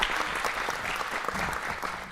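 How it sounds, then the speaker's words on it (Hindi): An audience claps loudly and continuously at a stage event, a dense, steady wash of applause from a close crowd. "तालियां जोरदार।"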